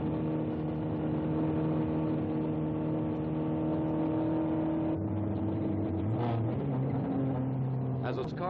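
A 1962 Ford Mustang I concept car drives on the closed-circuit road course at Daytona Beach, its engine droning steadily with a gear change partway through and rising revs near the end, under speech.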